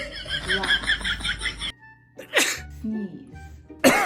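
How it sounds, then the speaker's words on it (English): A person sneezes deliberately, demonstrating the sound. Short bursts of laughter-like vocal noise come first, then quiet, then a sharp sneeze and another loud burst at the end. "Sneeze."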